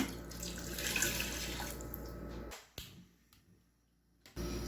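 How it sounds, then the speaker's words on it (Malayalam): A teacup of water poured into a pot over crushed ginger for ginger tea, a short splashing gush that trails off into quiet, followed by a couple of small knocks and a clunk. "അതിക്ക് നമ്മൾ ചായ കുടിക്കണ ഗ്ലാസ്സിൽ 1 ഗ്ലാസ് വെള്ളം ഒഴിച്ച് കൊടുക്കുകയാണ്."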